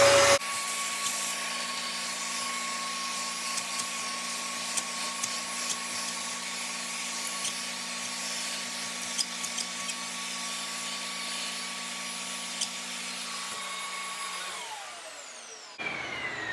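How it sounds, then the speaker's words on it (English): A vacuum cleaner with a brush attachment runs close up while cleaning a bathroom exhaust fan vent, a steady loud whine with a humming drone that winds down near the end. "I've got my vacuum cleaner right here."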